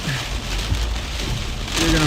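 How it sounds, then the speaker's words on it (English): Heavy rain pours down on a vehicle during a storm chase near Manhattan, Kansas, with a dense, loud, steady roar of drops drumming on the surface throughout. "Well, that's heavy rain."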